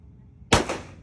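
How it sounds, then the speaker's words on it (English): A single sharp AR-15 rifle shot at an indoor shooting range, one loud close crack with a brief decaying reverberant tail after a quiet moment. "Keep shooting."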